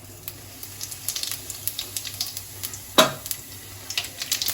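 Whole cinnamon sticks, cardamom pods, cloves and pressed ajwain sizzling in hot oil for spicy chana masala, a soft crackling hiss with small pops and a sharper clatter midway, no talking.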